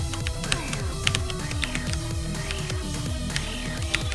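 Rapid clattering keystrokes on a cheap, worn computer keyboard while a video game plays, dense irregular clicks over a busy background of game sound.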